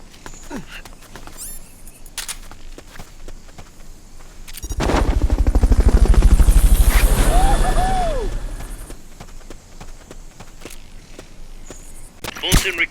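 A helicopter in the video game Metal Gear Solid Peace Walker swells up with a loud, rapid rotor chop, holds for a few seconds, then fades away, set against quieter game ambience.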